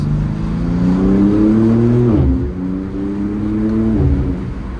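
A 2024 BMW G82 M4 Competition RWD with turbos revs from the outside, a loud close engine note rising in pitch, dropping briefly, then climbing again.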